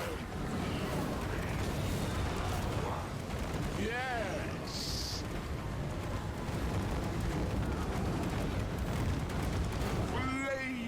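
Artillery fire in a video game battle against Cathay: a continuous loud roar of explosions and blasts with whistling projectiles, under steady talk.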